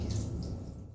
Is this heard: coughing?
no